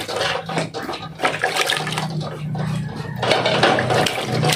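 Red eggs for an Akha festival are washed in water, with continuous close splashing and sloshing plus occasional hard clinks of shells and containers throughout.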